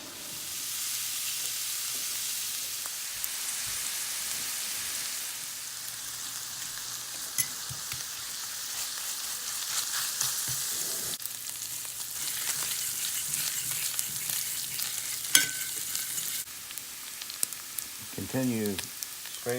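Ground meat browning in a little oil in a pan for biscuits and gravy, a steady close sizzle and crackle with occasional scraping, continuing alone without talk.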